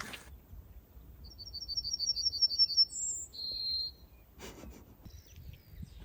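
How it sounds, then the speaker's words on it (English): A yellowhammer sings a rapid string of repeated thin notes ending in a longer drawn-out note, clear against a quiet outdoor background on the South Downs. "It was a yellow hammer."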